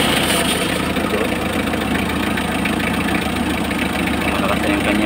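A Mitsubishi engine with a clutch-driven cooling fan starts and settles into a steady, loud idle, its continuous low rumble and fan whoosh running unbroken and close throughout, with no talk over it.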